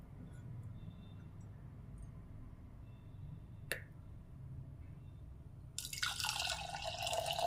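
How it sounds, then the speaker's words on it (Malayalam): Water from a cup pours into a pressure cooker holding broken wheat, a steady close splashing rush that starts late and follows a single sharp click amid quiet room noise. "അപ്പോൾ നമുക്ക് 1 കപ്പ് വെള്ളം ഒഴിച്ചു കൊടുക്കാം."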